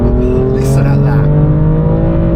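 BMW F82 M4 Competition engine revving, a loud, steady droning exhaust note with strong low harmonics, close up, with a brief rasping flare near the start.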